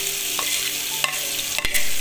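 Sliced onion sautés in hot oil with a loud, continuous sizzle close by, broken by a few sharp scrapes and clicks of a spatula stirring the pan, no voices.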